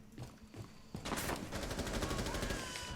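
Rapid gunfire in a Rainbow Six Siege competitive match: a few faint shots, then from about a second in a loud sustained burst of rapid automatic fire with a commentator's voice faintly underneath.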